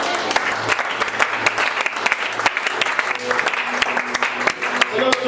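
Church congregation applauding after a French-language sermon, dense continuous clapping from many hands close by, with a few voices calling out underneath toward the end.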